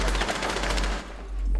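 Rapid automatic gunfire in the online shooter CrossFire, a loud, dense burst of repeated shots lasting over a second with a brief lull before more fire.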